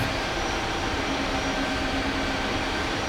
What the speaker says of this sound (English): now let's focus on getting this aeroplane lifted off